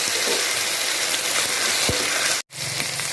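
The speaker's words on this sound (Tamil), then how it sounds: "கூட இஞ்சி பூண்டு பேஸ்ட்டு 1 டீஸ்பூன் போட்டுங்க. நல்லா பச்சை வடை போகிற அளவுக்கு நல்லா வதக்கி விடுங்க." Ginger garlic paste sizzles steadily in a hot pan over about three seconds, with one brief stir. The sizzle cuts out for a moment and then resumes. No one speaks.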